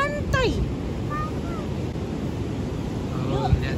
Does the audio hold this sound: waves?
yes